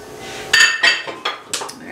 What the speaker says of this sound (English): And we're just gonna whisk that in.